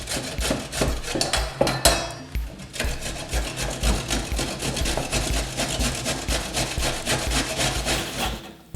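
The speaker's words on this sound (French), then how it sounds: "et là on va les râper. Voilà. Bonne chance, avec une râpe il faut du temps" Carrots are grated by hand on a metal grater in a home kitchen, with steady rhythmic rasping strokes that repeat continuously, close and fairly loud, and no talking.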